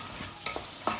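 Peanuts and garlic being roasted in a pan for spicy puffed rice, a faint low sizzle with a few soft scraping stirs of a spoon, close and brief, no voices.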